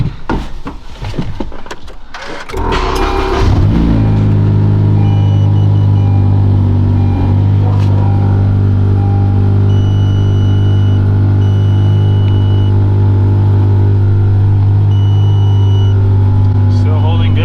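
Honda Civic Si engine cranking and catching after some handling noise, then settling into a loud, steady low idle drone that continues to the end.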